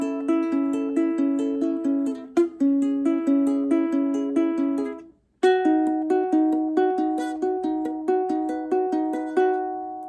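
Ukulele fingerpicking the chords of a song, a clear repeating plucked arpeggio pattern of bright notes, close and solo, with one brief pause midway.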